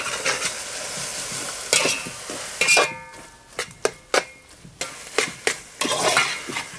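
A spoon scrapes and clanks through tomato, green chilli paste, turmeric and coriander frying in a pan, in uneven bursts of stirring over a soft sizzle, close and fairly loud.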